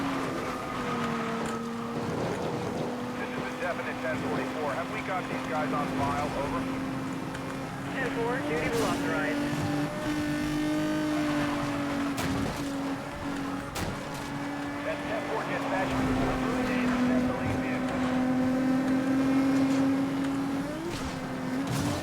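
Car racing fast in Need for Speed: Most Wanted (2012), a rising and falling engine whine running continuously under steady commentary from a man.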